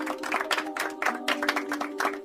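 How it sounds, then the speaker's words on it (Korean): A group of office workers in a drama scene claps together, a dense patter of hands in uneven bursts, fairly close and moderately loud, with a faint steady tone underneath. "잘했어요. 다 같이 박수!"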